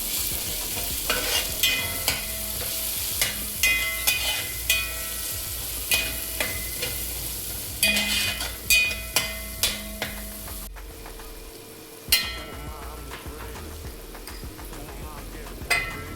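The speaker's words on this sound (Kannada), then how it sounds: "ಹಾಕಿ ಚೆನ್ನಾಗಿ ಮಿಕ್ಸ್ ಮಾಡಿ ಚೆನ್ನಾಗಿ ಎಣ್ಣೆ ಬಿಟ್ಕೊಳ್ಳೋರು ಹುರಿಬೇಕು" Masala with coriander powder and chilli powder fries in oil for egg biryani, with regular scraping strokes from a spoon against the pan over a constant sizzle, close and clear.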